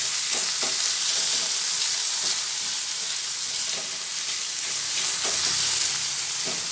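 Chhana (fresh cottage cheese) fries in a pan and is stirred, a continuous bright sizzle broken by repeated scraping strokes of the spoon at an unhurried rhythm.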